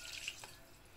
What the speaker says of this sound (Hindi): अब इसके अंदर थोड़ा सा पानी शामिल करेंगे